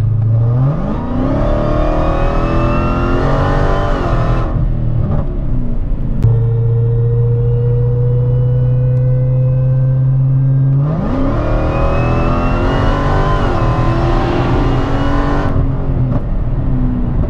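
A Dodge car accelerates hard in two short pulls, each a loud, rising engine roar climbing through the gears. Between them comes a steady, lower drone as it holds speed, with no voices.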